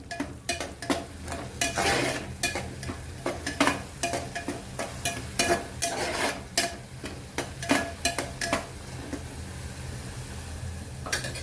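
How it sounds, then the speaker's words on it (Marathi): Homemade garam masala is stirred into dal in a pan, with a quiet sizzle under a run of spoon scrapes and taps against the metal at an uneven rhythm, and no voices. "गरम मसाल्याचा छान मिक्स करून घेऊया"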